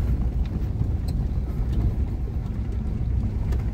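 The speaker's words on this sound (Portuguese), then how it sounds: "Esse ali é o caminhão pipa." A water tanker truck rolling downhill on a rural stretch of the BR-230 Transamazônica highway, its engine a steady low rumble with constant wind noise and no voices.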